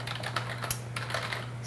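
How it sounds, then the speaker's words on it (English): Rapid typing on a computer keyboard at a desk during Raspberry Pi 3 power tests, irregular clicky keystrokes at moderate level over a steady low electrical hum, no voices. "I'm just going to keep typing."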